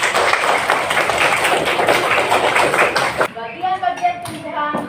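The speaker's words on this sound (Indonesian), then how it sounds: "Jadi berilah tepuk tangan buat kelompok 3." A classroom of students claps for a group after its presentation, a brisk burst of many hands lasting a few seconds before it stops abruptly and a voice begins speaking.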